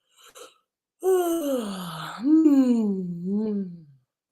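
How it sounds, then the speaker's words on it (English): A voiced, drawn-out yawn-like vocal sound during a vocal warm-up, rising and then sliding down over a few seconds, after a brief soft breath at the start. "work that into a yawn"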